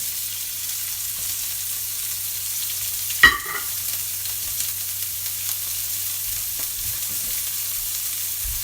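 Onions fry in oil in a pan for Italian-style spicy pork ribs, giving a steady close sizzle with one brief clatter partway through and no talking.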